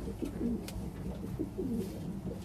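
Racing pigeon in a loft giving soft, low repeated coos in short phrases, near and fairly quiet, with faint background rustle and no talking.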